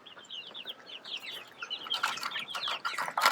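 Many young chicks in a brooder peep in quick, high, overlapping chirps, faint at first and then busier and louder, with no talking.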